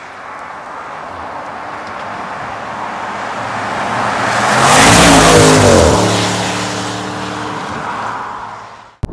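A 2022 Audi RS6 with a V8 engine revs while driving, its steady cabin drone swelling into a loud rising roar mid-clip before easing back down to a constant hum.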